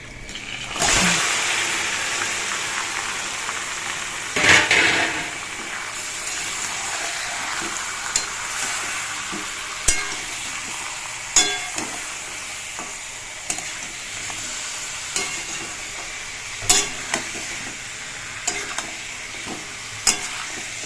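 Marinated chicken dropped into frying onions, with loud steady sizzling and a sharp burst as it goes in. Stirring scrapes and clinks of the utensil recur through the rest, close by.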